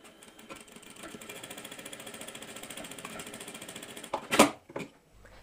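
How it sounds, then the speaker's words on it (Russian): An Aurora A5E industrial sewing machine stitches in a steady, rapid mechanical rhythm at close range for about four seconds, then stops with a few louder clunks and knocks. "Эту швейную машину Аврора А5Е я приобретала на сайте Книтизм."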